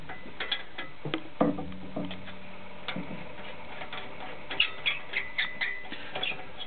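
An SCBA air bottle being threaded by hand onto a cascade system fitting: quiet, close, irregular ticking and ratchet-like clicks of metal threads turning, with faint scraping in between.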